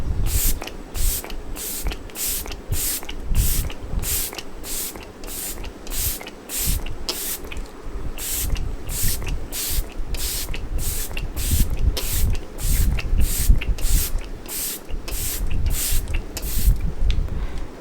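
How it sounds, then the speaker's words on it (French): A bottle of setting spray misting again and again: short, breathy hissing puffs repeat in a fast, even rhythm, close and clear, over faint low rustling. "Spray fixateur, il est génial."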